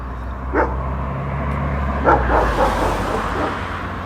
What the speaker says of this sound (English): that's the neighbor's dog, if you can hear it.